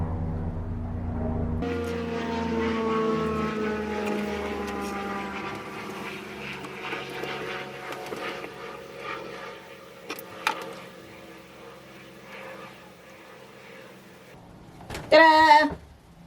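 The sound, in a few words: helicopter flying overhead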